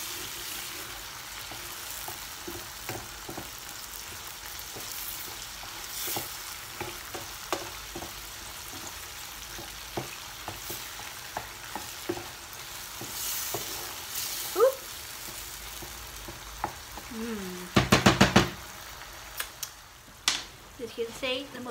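Garlic and mushrooms fry in a pan with a continuous quiet sizzle, broken by scraping and tapping as they are stirred and turned, with a louder clatter near the end; a person talks at times over the cooking.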